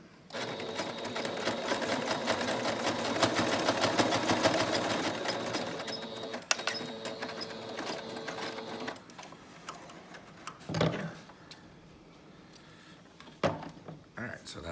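A sewing machine stitching a strap runs in a fast, continuous rattling whir for several seconds, then stops; afterward come handling clicks and bumps of the fabric, with quiet speech at times.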